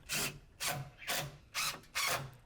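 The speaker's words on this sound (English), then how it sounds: "attach it with your deck screws onto the beam as well." A power drill drives deck screws into a wooden beam in five short, evenly spaced whirring bursts, each about a third of a second long and close to the listener, with quiet gaps between them and no talking.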